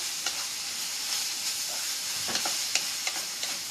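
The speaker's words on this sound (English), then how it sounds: "I'm just going to stir it together inside my pan" Aubergine, onions and chili pepper are stirred together in a frying pan for an aubergine dip, giving a steady close sizzle broken by a few soft scraping taps of the spoon.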